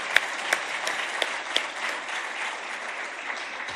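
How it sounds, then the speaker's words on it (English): Audience applause at a scientific meeting, sustained steady clapping from a large room with a few sharper individual claps standing out, no talking over it. "we should give a round of applause to the program committee"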